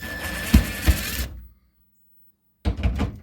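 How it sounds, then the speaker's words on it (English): Screws being removed from the PCB bracket inside a Ms. Pac-Man arcade machine, heard as a close buzzing, grinding whir that stops for over a second and then starts again, with no talk. "Next thing we'll need to do is remove these 3 screws holding the"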